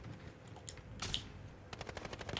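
Sniper rifle fire in Call of Duty: Warzone, a sharp shot crack near the middle of a short stretch of game noise with rapid clicking bursts toward the end.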